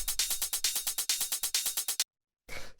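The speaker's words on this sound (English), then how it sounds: "these hi-hats, which sound like this" Hi-hats from a dark warehouse techno track tick in a fast, even run of crisp, bright hits for two seconds, pause briefly, then return with one more wash of noise.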